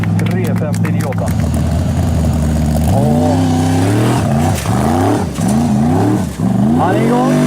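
Formula Offroad buggy engines at a Rättvik event roar loudly and close, revving up and down in repeated sweeping surges, with a commentator talking over them in Swedish.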